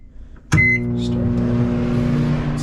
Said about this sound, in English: just open up the microwave